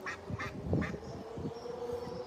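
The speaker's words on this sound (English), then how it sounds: "Well, they are ducks," Ducks quack outdoors in a suburban park on a summer day, several nasal quacks in quick succession, moderately near over a soft ambient background.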